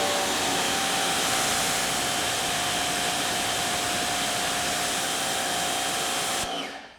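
Wholesun 3000 psi electric pressure washer spraying through a 25 degree nozzle at about 1150 PSI, a steady loud hissing roar with a faint whine that runs unbroken for over six seconds, then cuts off abruptly.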